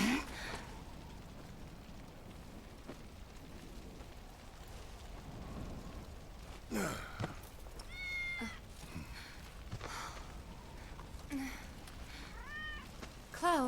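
Cats meowing in the video game Final Fantasy VII Remake: several short, high meows scattered over low rain-like ambience and rumbling game sound, with a voice heard around them.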